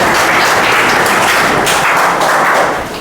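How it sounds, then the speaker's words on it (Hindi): Audience clapping at a public gathering about a solar power scheme: a loud, dense burst of applause that holds steady for about three seconds. "एक बार ताली मार दीजिए आप सब लोग।"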